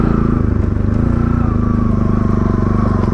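A motorcycle is ridden on a road after an off-road stretch near a school in Nepal. Its engine rumbles loud and close with a steady, pulsing throb, and a little clatter rides along with it.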